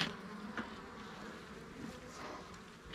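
A dense, steady hum of a strong honeybee colony buzzing close by, with occasional single insects flying past, no voices.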